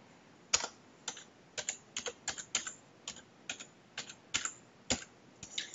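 Someone types a name and password on a computer keyboard, with a dozen or so distinct, crisp keystrokes tapped at an uneven pace, close and fairly quiet, with no talking.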